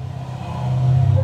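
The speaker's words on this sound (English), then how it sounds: "There was a loud car that just drove by that you also probably heard." A loud car passing close by outdoors, a steady low engine rumble that swells louder as it goes past, heard alone with no talking.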